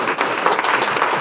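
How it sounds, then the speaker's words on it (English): Audience applause at a national culture and arts awards ceremony, a dense steady wash of clapping from a crowd filling the brief moment without talk. "Please give him another round of applause."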